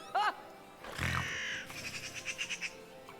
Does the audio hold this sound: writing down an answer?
no